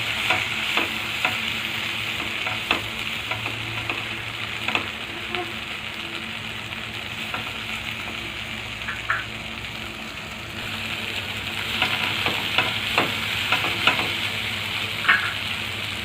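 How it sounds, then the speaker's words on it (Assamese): Half-fried okra (bhindi) with red chili powder stirred in a hot pan for Maharashtrian bhindi bhaaji: a constant loud sizzle broken by repeated scraping spoon strokes and clacks against the pan, with no talking. "এতিয়া আমি ইয়াত ৰেড চিলি পাউডাৰ এড কৰিম অলপমান আৰু এইখিনি ভালদৰে মিক্স কৰি দিম।"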